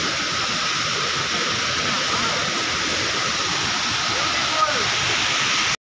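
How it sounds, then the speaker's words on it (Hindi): A small waterfall at Sedam Jharna in Surguja, Chhattisgarh, a steady, close, broad rushing hiss of falling water that continues unbroken throughout. "इधर हम लोग सेदम झरना पहुंच चुके हैं, ये छोटा वाला झरना है"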